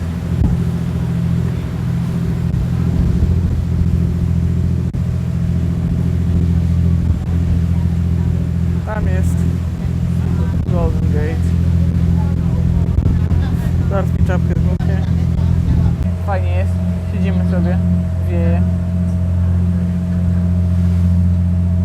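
Engine of a ferry crossing San Francisco Bay toward Alcatraz, a constant low droning rumble close by, with people speaking over it.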